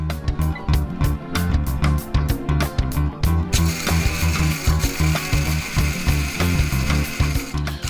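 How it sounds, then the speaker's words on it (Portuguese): A small coffee grinder runs on coffee beans and gives a loud, continuous mechanical whir. The whir carries a rattling, pulsing texture that changes partway through, and there is no talk over it. "Então vou primeiro moer esse café aqui, nosso moedorzinho."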